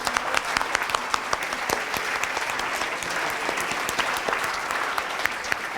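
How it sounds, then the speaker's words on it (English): A crowded room at an award ceremony applauds loudly and steadily, dense clapping filling the room throughout with no talk over it. "please, a round of applause to all of you,"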